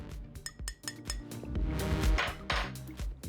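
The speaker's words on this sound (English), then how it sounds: "All I've got to do is give that a little stir, just to incorporate everything." A spoon clinks repeatedly against the sides of a cup while stirring milk into coffee brewed in a Belgian balancing siphon coffee maker, giving close, irregular metallic chinks with no voices.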